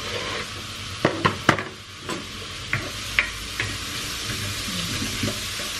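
Half pork, half ground beef fries in a pan, sizzling steadily up close while a utensil stirs and knocks against the pan in a few sharp taps.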